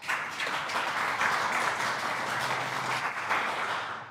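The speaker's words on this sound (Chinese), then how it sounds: "报以最热烈的掌声。" A school audience of teachers and students gives warm applause for the students who took part in a speech competition, a steady, moderately distant wash of many hands clapping that holds evenly and fades slightly at the end.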